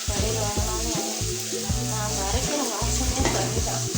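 Tomatoes and onion frying in a pan give a steady, close sizzle throughout, with melodic background music playing over it.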